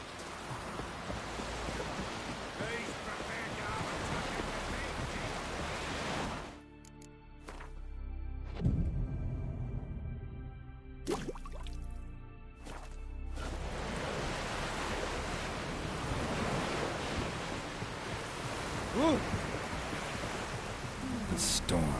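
A storm with steady rain pours down continuously in The Witcher 3, broad and hissing, dropping out briefly mid-clip before returning; a faint voice occasionally sits beneath the downpour.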